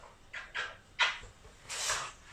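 Dog makes a few short yips and snuffling whimpers at home, four quick soft bursts spaced unevenly, fairly close and quiet, with no talking over them.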